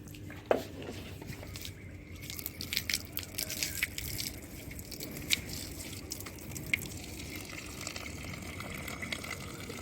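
Water pours and splashes onto potted plants as they are watered by hand, an uneven run of splashes and gushes with scattered louder bursts, fairly close.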